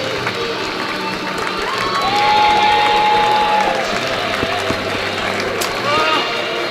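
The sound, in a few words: stadium crowd applauding women's team lap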